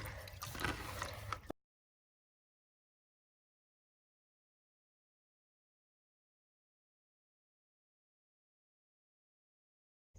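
Wet, squishy rubbing of rice grains by hand in a bowl of water, a short close burst of sloshing and squelching that stops abruptly and leaves silence.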